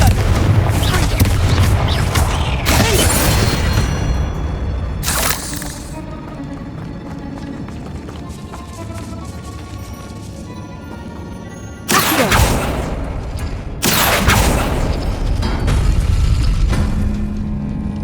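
Confringo blasting spell in Hogwarts Legacy lets off heavy booming blasts, several loud bursts separated by quieter stretches of rumbling game sound, with close explosive impacts near the end.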